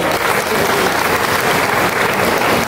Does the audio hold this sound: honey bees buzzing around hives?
no